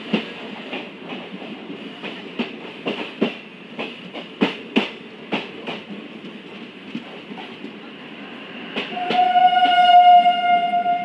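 A train at Barahat Junction railway station rolls past with rhythmic wheel clacks over rail joints, steady and fairly close, before a long horn blast sounds near the end.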